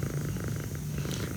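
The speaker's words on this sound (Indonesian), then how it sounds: "Kucingnya namanya siapa nggak tahu, karena ini kucing asing dari luar, datang sendiri ke rumah" A stray cat that wandered in to a house purrs up close, a continuous rumbling, softly rhythmic purr with no talk over it.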